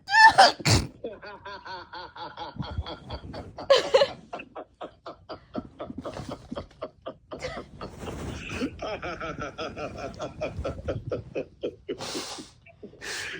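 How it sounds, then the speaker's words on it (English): A sharp sneeze near the start, followed by snickering and breathy laughter that carries on in bursts, with another loud burst later. "All I did was sneeze."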